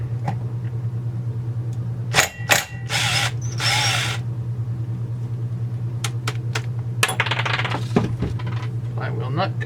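Work on the flywheel nut of a Husqvarna 372XP chainsaw: a steady low mechanical hum under bursts of ratcheting and impact-driver noise, with sharp metallic clicks and clinks of tools and parts, close up.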